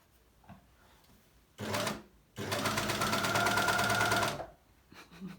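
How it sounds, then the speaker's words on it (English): An overlocker sewing machine runs in two bursts, a short one and then a longer steady whirring run of about two seconds, close by, with quiet room sound between. "Laura has just gone to use the overlocker"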